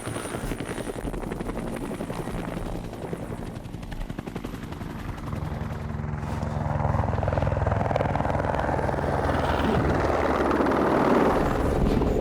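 A helicopter roars steadily close by during a chamois hunt in New Zealand, its rotor thumping throughout and growing louder and fuller in the second half.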